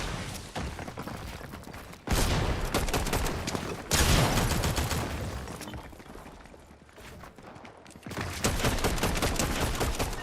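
Loud, continuous gunfire in Fortnite, with dense overlapping shots and bursts filling the whole stretch and brief dips between volleys.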